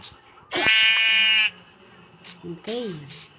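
A sheep bleats in the Minecraft video game, one loud, long, wavering bleat followed by a shorter, quieter one, close up and over faint background sounds.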